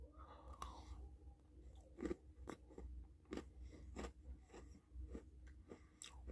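Small chocolate Pepero stick being bitten and chewed close to the mouth, a series of crisp crunchy snaps and moist chewing sounds spread over several seconds with no talking.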